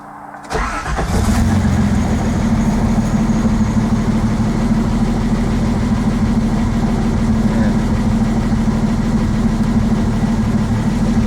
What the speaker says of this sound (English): The engine is shaking and it's kind of missing.